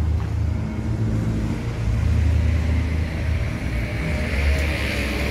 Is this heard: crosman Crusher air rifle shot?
no